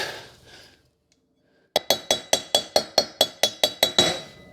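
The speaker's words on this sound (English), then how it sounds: "Go ahead and pound on that thing." A hammer pounds a bearing race into a trailer brake drum for a homemade Jeep trailer: after a brief quiet pause, about eleven sharp, ringing metallic strikes land in a quick, even rhythm, close and loud.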